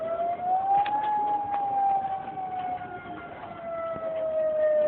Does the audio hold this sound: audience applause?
no